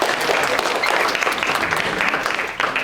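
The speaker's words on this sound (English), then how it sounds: "We applaud to the group." A group at a traditional sports workshop in Sweden gets a steady round of clapping from the audience, dense and sustained throughout, fairly loud and close.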